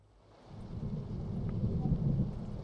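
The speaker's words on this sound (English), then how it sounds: "It's raining IRL as well." Real rain and thunder fall outside a room, a faint, distant rumble that swells after the first half-second into a continuous low roar with soft patter on top.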